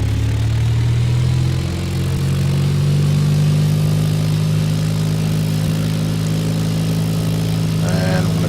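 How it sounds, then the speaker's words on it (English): A Cessna 172 engine in the X-Plane 10.5 flight simulator runs up to a steady, loud drone with a strong, continuous hum that holds evenly throughout, with no talking over it. "So let's go ahead and rev it up to about 1900 RPM."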